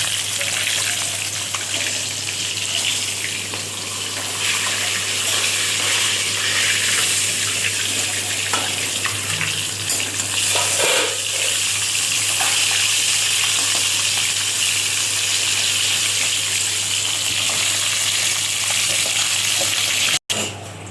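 Cauliflower frying in oil in a pan makes a continuous, fairly loud hiss and sizzle for about twenty seconds, with a steady low hum underneath and a sharp click near the end.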